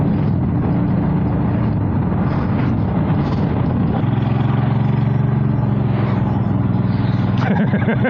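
Several motorcycles pass by on a forest trail, their engines droning and swelling as they go by, heard through a rider's helmet microphone under heavy wind noise, with someone talking over it.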